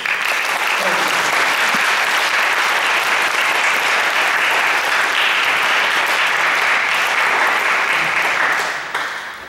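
A church congregation applauds in celebration of newly baptized members, loud, sustained clapping from many hands filling the room for nearly ten seconds before fading.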